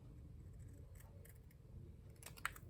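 Scissors trimming paper card, a handful of faint, crisp snips spaced out over a quiet room, the last cut slightly sharper and closer.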